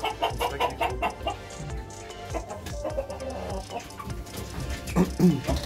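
Several eight-week-old young roosters of a mini meat breed cluck and chatter close by in a busy, overlapping stream, with a voice speaking softly among them.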